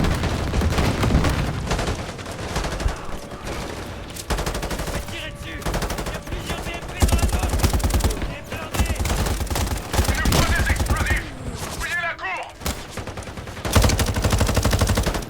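Sustained machine gun fire from a Modern Warfare campaign game, played on Commando difficulty, runs as loud, dense rapid bursts with brief pauses and scattered booms throughout.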